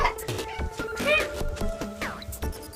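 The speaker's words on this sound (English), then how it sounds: "My cat." A house cat meows several times in a checkered bathroom, the cries rising and falling close by over background sounds and some voice activity.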